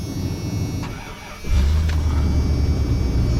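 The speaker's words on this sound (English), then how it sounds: "let's go and get this truck fired up" A truck engine cranks over and catches about halfway through, then settles into a loud, steady idle with some revving, close by and with no one talking.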